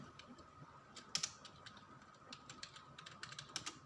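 Fingers type on a computer keyboard in quick irregular bursts of faint, close clicks, with a few louder key strikes standing out against a quiet background.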